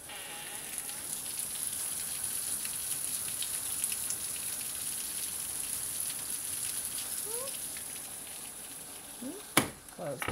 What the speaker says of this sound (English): I will open the door again and listen to the rain.